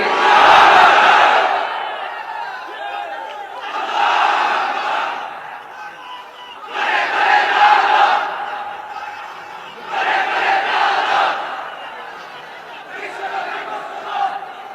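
A large crowd at a religious sermon shouts takbir in unison in response to the preacher, five loud roaring bursts spaced a few seconds apart, each swelling and fading, close and dominant.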